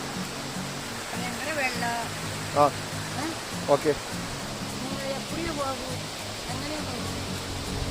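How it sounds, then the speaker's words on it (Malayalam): Steady, broadband rushing roar of a waterfall at Kanthalloor near Munnar, continuous throughout, with people talking over it. "വളരെ മനോഹരമായിട്ടുള്ളൊരു വെള്ളച്ചാട്ടമാണ്"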